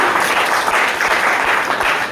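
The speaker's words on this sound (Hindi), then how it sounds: "एक बार जोरदार तालियां होनी चाहिए" Loud, dense applause from a crowd at a company presentation, many hands clapping together in a continuous roar that holds strong throughout.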